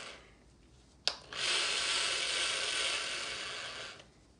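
A cordless drill spins an RC car shock shaft while it is wiped with a microfiber cloth, giving a sharp click at the start and then a steady high whirring hum that lasts about three seconds before stopping.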